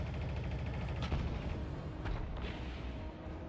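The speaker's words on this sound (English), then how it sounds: "we're going to use the power of the chain gun after we reload it and see if we can take out that emplacement" A chain gun fires in the PS Vita game Resistance: Burning Skies, with rapid, continuous booming bursts that are dense and rumbling, and a couple of heavier impacts.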